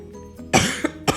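Someone with a sore throat gives a short, close cough in two or three rough bursts, with faint room sound between them.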